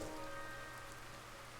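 Steady rain pours in a Zelda-style video game, a constant hiss of drops on surfaces with a low background hum, quiet and unbroken throughout.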